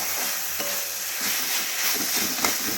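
A moringa flower and mustard-poppy paste is stirred in a hot pan, giving a close, continuous scraping and sizzling texture with small rhythmic spatula strokes throughout.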